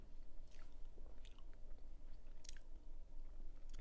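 Rose apple (luk wa) fruit being chewed, with close, quiet wet bites and crunches coming in irregular bursts and no talking.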